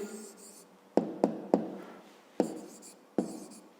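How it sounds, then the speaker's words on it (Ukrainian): Pen writing down a maths answer on paper: a handful of light, close taps and short scratchy strokes in an irregular rhythm, quiet and without talk. "Записуємо тоді відповідь"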